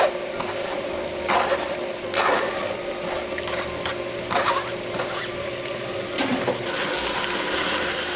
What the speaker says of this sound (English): Okay, we're putting in the peppers.